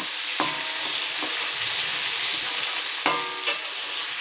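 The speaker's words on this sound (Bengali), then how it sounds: "পুরো লাল লাল করে ভাজতে ভাজতে এটা আমার পুরো গলে যাবে।" Loud, steady sizzling as a pan fries with mustard paste and chili paste, with a few sharp scrapes of the spatula stirring it, and no voices.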